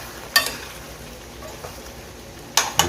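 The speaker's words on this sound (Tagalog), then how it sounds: "Haluin natin." Chicken kaldereta stew stirred in a pot, with a few scraping spoon knocks against the pan at intervals over a faint background, and no speech.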